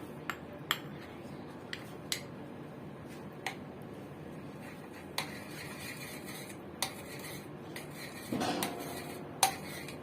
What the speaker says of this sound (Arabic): نقلب فيها كويس جدا